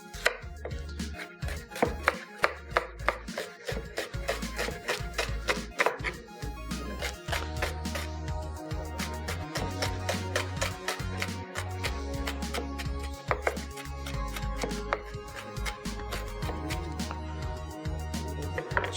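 A knife chops a whole onion on a board, fast steady close thuds in continuous runs with brief pauses, loud and sharp with nothing else heard.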